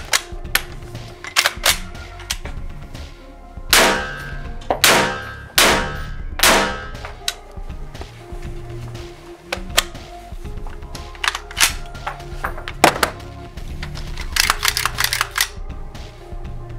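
Four 7.62x51 M80 Ball rifle rounds fired from a Kel-Tec RFB at close range into lightweight level III+ body armor: loud, sharp broadband cracks spaced a second or so apart, with metallic clanks and rattling between them.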